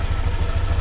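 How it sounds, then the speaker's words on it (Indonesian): A used motorcycle's engine idles steadily without throttle, a continuous low rumble close to the microphone. "Dengerin aja dulu mesinnya"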